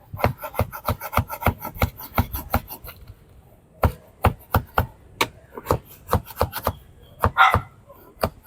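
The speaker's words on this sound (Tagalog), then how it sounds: "Ngayon, maghihiwa naman tayo" A knife chops bopis ingredients on a cutting board in quick, close, rhythmic strokes, pausing briefly before another burst of steady chopping.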